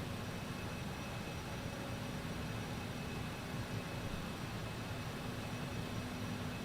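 Steady, continuous airliner engine drone inside Microsoft Flight Simulator 2020 on a flight from Osijek, Croatia to Nice, France, a constant broadband roar with a faint hum, unchanging and with no talk over it.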